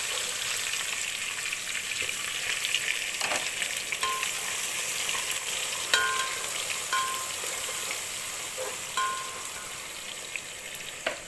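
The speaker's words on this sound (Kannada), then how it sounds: "ಈಗ ಈರುಳ್ಳಿ ಹಾಕ್ತಾ ಇದ್ದೀನಿ" Onions sizzling in oil in a frying pan for a Kerala-style dum biryani produce a loud, dense, constant crackle, broken by occasional metallic clinks of a utensil against the pan.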